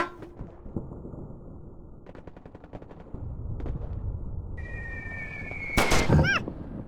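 Gunfire and artillery shells in the roguelike video game Daikon Hero: quiet scattered pops and short rattling bursts, then a brief tone and a louder burst near the end, all fairly faint.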